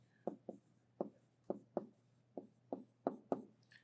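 A marker or chalk taps and scratches across a board in a string of short, quiet strokes, about a dozen irregular bursts over a faint steady hum.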